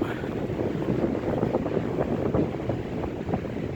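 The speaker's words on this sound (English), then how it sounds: "this wind is not going to let up" Wind blowing through a cemetery at night, a steady, rough rushing and buffeting against the microphone, loud and continuous with no clear voice over it.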